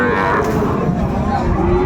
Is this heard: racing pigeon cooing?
no